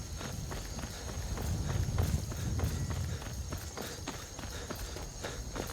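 Horse hooves galloping at a steady, rapid rhythm in the Skyrim video game, a continuous run of repeated thuds over a low rumble, with a faint voice underneath.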